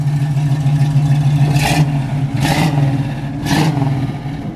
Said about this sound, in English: I always like to hear the exhaust on a classic car.